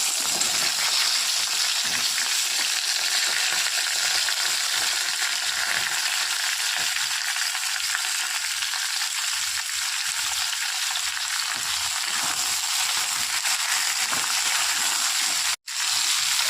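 Pieces of taro and potato fry in hot oil with a cumin tempering, giving a loud, dense, continuous hiss close by that holds steady for the whole stretch, with one momentary dropout near the end.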